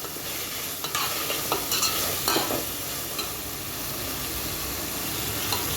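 Biryani masala with tomatoes and green chillies sizzles in a pan while a spoon stirs it, scraping clinks over a constant frying hiss, close and steady, with no voices.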